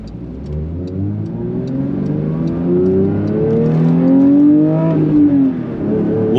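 A 2023 Porsche 911 GT3 Touring with six-speed manual accelerates hard in third gear, its engine note climbing steadily in pitch toward a high redline, loud and close from inside the cabin with no talking.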